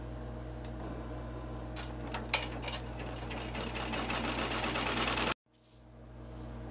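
An embroidery machine hums and clatters continuously while stitching the tires on an in-the-hoop mini bus zipper bag, growing slightly louder before halting suddenly; a faint low hum lingers afterward.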